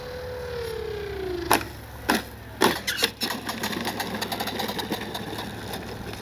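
Whining motor of an E-flite Gee Bee R2 RC plane coming in hot for a landing, a falling electric tone followed by several sharp thumps and rattles as it touches down and rolls out.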